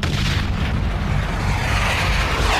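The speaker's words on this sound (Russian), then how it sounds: "Я выстрелил из гранатомета еще раз." A grenade launcher round bursts against a PT-76 tank in a Vietnam War battle, a loud, dense explosion with a sustained rumbling roar that fills the whole stretch without letup.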